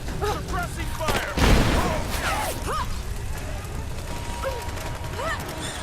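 Gunfire erupts in Rise of the Tomb Raider as Lara fights at a Trinity base, a single loud crackling burst rising briefly over a steady narrating voice and background game score.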